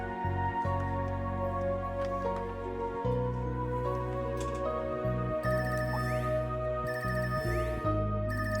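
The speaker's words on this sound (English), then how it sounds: "It's ringtone. I haven't heard this before." A phone ringtone from the video game Trails of Cold Steel plays as a steady, looping electronic melody with chiming tones, loud and continuous with no talking.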